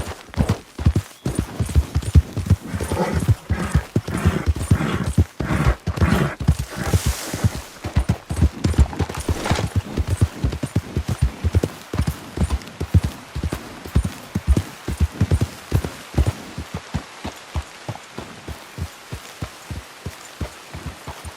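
Horse hooves clip-clopping in the video game Red Dead Redemption 2, a rapid, steady rhythm of loud, close hoofbeats with a rattly surface texture, continuing for the whole stretch with no talk.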